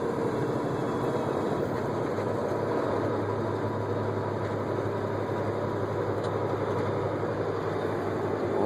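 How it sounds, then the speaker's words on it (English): A semi truck with tandem axles, heard from inside the cab near Alda, Nebraska, gives a steady low engine rumble as the driver downshifts, with a continuous drone and no sharp breaks. "Just downshifting."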